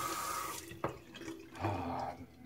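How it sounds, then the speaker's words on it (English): Hands rinsed under a running bathroom tap after shaving, a steady close splash of water with brief shifts as the hands move through the stream. "Alright, rinse my hands."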